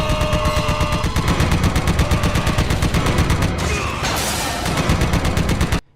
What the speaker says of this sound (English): Yu is operating a turret in a Jeep with no driver